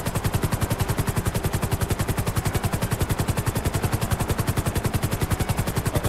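GTA 5 shootout in a favela: a steady, rapid stream of evenly spaced loud pulses like continuous automatic gunfire or rotor chop, unbroken for the whole stretch with no voices.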